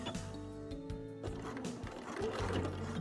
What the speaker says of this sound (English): I am going to back stitch it